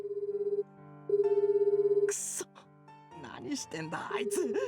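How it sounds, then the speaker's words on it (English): A cell phone ringtone in the game Dies irae, a bright repeating electronic melody chiming in pulsed bursts, broken by a gasp and short game vocal sounds midway before the ringing resumes. "the cell phone still ringing in my hand"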